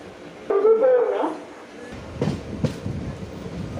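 A train pulls away from Karunagappally railway station in Kerala, a rumble with a couple of clanking knocks after a short voice-like tonal passage near the start.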